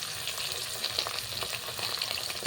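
Chopped onion and green chilli frying in hot oil, a dense, even crackling sizzle that stays close and steady throughout, with a few faint stirring touches and no voices.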